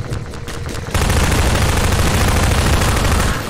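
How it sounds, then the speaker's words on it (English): Gunfire in Half-Life 2 on a rooftop, starting with a few shots and then breaking into a loud, dense burst of continuous automatic fire up close. "There are people who are actually shooting at you!"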